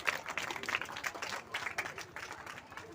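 Audience clapping to welcome a guest at a Hindi devotional bhajan gathering, steady scattered applause of moderate loudness lasting throughout, with faint voices mixed underneath.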